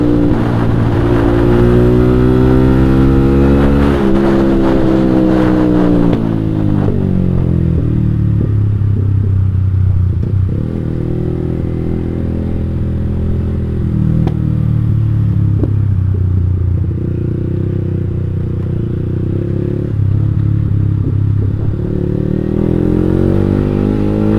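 A motorcycle fitted with a long JB159 trioval aftermarket exhaust is revved hard and loud up close, the engine note climbing and falling through several sustained pulls, with no talking.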